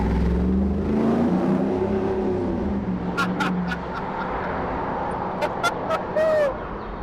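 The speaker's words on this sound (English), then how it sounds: "The engine." A Ford Bronco restomod engine idles and revs steadily up close, a low rumble with rising and falling tones, followed by sharp clicks and brief whines while voices talk over it.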